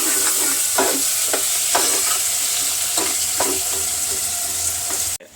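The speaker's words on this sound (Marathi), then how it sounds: "टोमॅटोला पण थोडा परतून घ्यायचं आहे." Tomato sautéing with fried onions in a pan for a mutton curry: a steady close sizzle with a regular spatula scrape roughly every half second, no voices, cutting off abruptly at the end.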